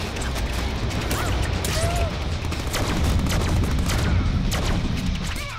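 Rapid bursts of gunfire in the Deadpool video game, a dense, continuous barrage of loud cracks and booms with mechanical clatter, close and relentless throughout.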